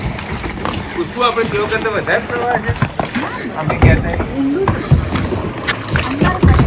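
A kayak slides into the water with sloshing and splashing, heard close by under steady talk from several people outdoors.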